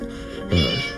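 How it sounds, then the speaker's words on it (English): A cartoon cat gives a single short, clear meow, close and loud, in a brief animated comedy scene with no talking. "Little kitty."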